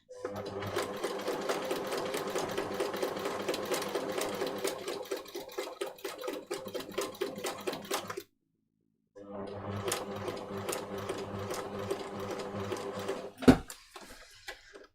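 Sewing machine stitching fabric for a child's jacket, a steady rapid mechanical whirr running continuously, pausing for about a second, then resuming before a sharp clunk near the end; close and clear with no talk.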